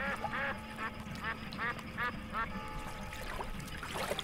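Ducks on the Rhine riverbank give a run of nasal quacks in quick succession, fairly close and distinct over a faint outdoor background with soft ambient noise.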